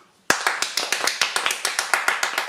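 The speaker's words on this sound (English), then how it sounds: "give all of those children, Hannah, Perez, Elodie, Malachi and Hannah, a massive round of applause" Clapping for children at a school assembly: after a quiet moment, a set of sharp, evenly spaced claps starts abruptly and continues at a steady beat, close and fairly loud, sounding like a small number of hands rather than a full crowd.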